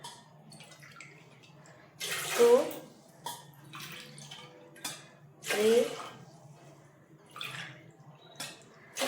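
Cups of water are poured into sago in a kitchen, two distinct pouring splashes a few seconds apart, while a nearby voice counts between them.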